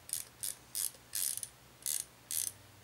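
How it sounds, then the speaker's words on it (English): A ratchet wrench spins a carriage bolt nut in six quick bursts of rapid, close clicking, each about a third of a second long and separated by short pauses, over a low steady hum. "I take the ratchet wrench and you spin it"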